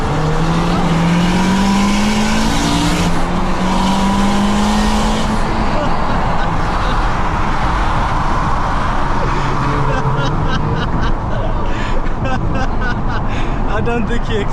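A 700bhp Honda Civic's engine revs hard and accelerates loudly, the pitch climbing through the gears, with tire noise and excited voices in the background.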